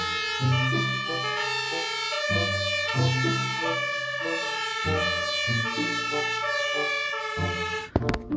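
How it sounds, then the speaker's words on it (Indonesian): A toy fire engine wails with a steady electronic siren, cycling through repeated tones at close range for several seconds before a brief clatter at the end; no one speaks over it. "ini ada mobil pemadam kebakaran teman-teman"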